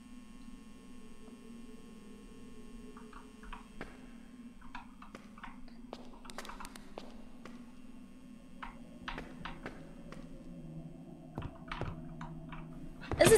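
Scattered computer keyboard keystrokes click in irregular bursts over a steady low electrical hum, fairly close but soft, with a louder clatter at the very end.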